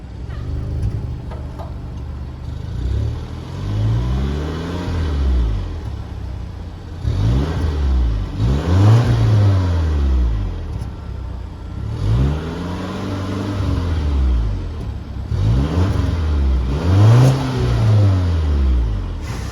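A 2023 Volvo V90 Cross Country engine starts and revs up and down repeatedly, its pitch climbing and falling in about five smooth cycles, loud and close.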